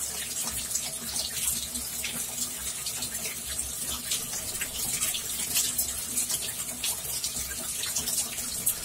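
Water runs steadily from a shower, a constant broadband hiss of spray that continues unbroken throughout, with no voices over it.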